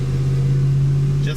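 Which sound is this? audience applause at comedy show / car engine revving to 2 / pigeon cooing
car engine revving to 2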